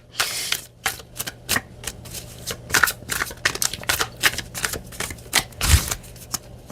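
A tarot card deck is shuffled close up, with a rapid run of crisp papery riffles and taps at uneven rhythm, some louder snaps standing out.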